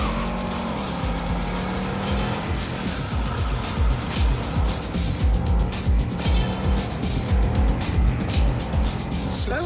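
Car engine in Cyberpunk 2077 revs loudly and steadily while driving fast, with tire squeal and surging acceleration, a dense continuous roar throughout, with a voice briefly heard over it.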